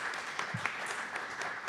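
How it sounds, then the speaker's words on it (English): Applause at a city council meeting after a bill passes, a steady patter of many hands clapping in a large room, moderately distant and continuing evenly throughout. "That's what everyone clapped on."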